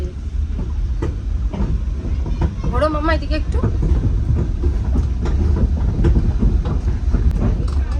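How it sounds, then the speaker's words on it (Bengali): A small toy train at a children's park in Balurghat rumbles along with a steady clattering roll, heard up close under people talking, with a brief whistle-like tone partway through. "এই তো ট্রেন চলছে"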